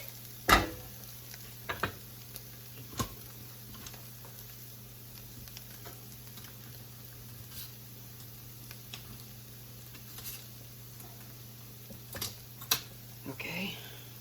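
Whisk working flour and butter roux in a pan for French onion mac and cheese, giving scattered clicks and scrapes of varying strength against a steady background hum.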